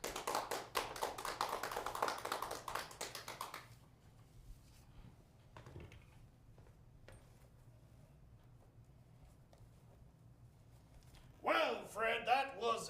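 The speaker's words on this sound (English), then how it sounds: "Give yourselves a round of applause." Audience at Fearless Fest breaks into a round of applause, a dense burst of clapping for about three and a half seconds that cuts off into near quiet before a voice speaks at the end.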